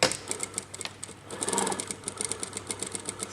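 Sewing machine stitching a lapped zipper seam, running in quick rhythmic bursts with brief pauses, close and moderately loud with no talk.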